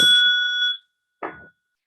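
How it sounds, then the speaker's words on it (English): A meditation bell is struck once and rings with a clear, pure tone that fades quickly into silence, followed by a short, muffled knock. "So let us begin, and I'll ring the bell."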